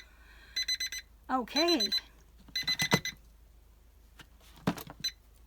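A cube timer alarm ringing in short repeated bursts of bright electronic beeping, close and fairly loud, with a person's voice sounding between the rings.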